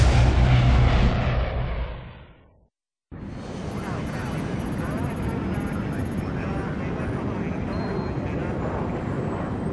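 An airplane engine in the video game Splinter Cell Blacklist roars loudly and steadily, cuts out briefly, then returns as a continuous broadband drone with a faint high whine.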